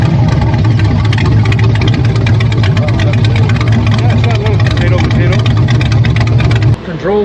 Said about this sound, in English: Man, let's hear it. I just got to hear that exhaust.